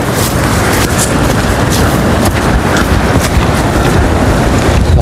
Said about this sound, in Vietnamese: Gió vi vu các bạn này. Gió ghê chưa? Khiếp hồn luôn đấy.